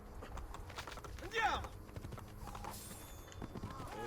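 Horse hooves clip-clop in the Assassin's Creed 2 video game, a quick run of hoofbeats amid busy game sound effects and a brief whinny-like call.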